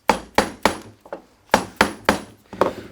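Sharp taps on steam-bent wood held in G clamps, about eight close, solid knocks in an irregular rhythm, each ringing briefly before the next.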